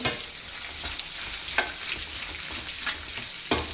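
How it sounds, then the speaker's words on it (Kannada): Onions frying in a pan give off a constant bright sizzle, broken by a few sharp scrapes of a spoon as they are stirred at irregular intervals, close up and with no speech. "ಬೇರೆ ಆನಿಯನ್ ಹಾಕಿ ಚೆನ್ನಾಗಿ ಫ್ರೈ ಮಾಡಿ,"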